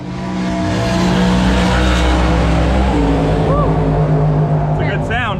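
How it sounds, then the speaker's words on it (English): Two drag race cars launch hard together from the line, a loud sustained roar of engines building and pulling away as they hook up, with crowd noise and voices faint underneath. "That's the sound of two cars dead hooking."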